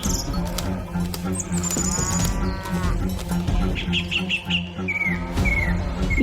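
Cartoon buffaloes moo repeatedly in a rural farm scene, loud drawn-out lowing calls over chirping insects and birds, with some background music.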